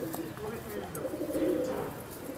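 Teddy pigeons on a rooftop giving low, rolling coos, fairly faint and steady, with a voice talking over them.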